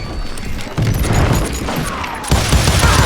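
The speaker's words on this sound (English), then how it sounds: "Sounds like Garrett hired a whole regiment of hired guns." Gunfire rattles through a Wild West shootout in the video game Call of Juarez Gunslinger, with dense booming shots and crashes layered loudly and continuously, swelling in two surges.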